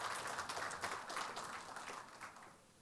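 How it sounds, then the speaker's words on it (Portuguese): Audience at a telecom industry panel session applauding as a guest is called to the stage, a faint, distant, diffuse clapping that slowly fades out. "peço uma salva de palmas"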